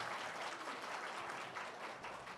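A church audience claps steadily at a Sunday school summer ministry thanksgiving service, a dense, even wash of applause held at moderate distance for the whole stretch without fading.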